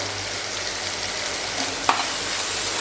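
Tomatoes frying in a pan for an egg curry, stirred through a steady close sizzle with one sharp scrape of a utensil, no talking.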